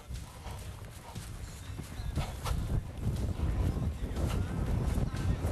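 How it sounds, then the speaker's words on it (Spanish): A dressage horse moving forward under its rider gives a steady clip-clop of hooves that grows a little louder through the stretch, with a breezy rumble underneath and no talk. "El caballo va hacia adelante, se va reuniendo."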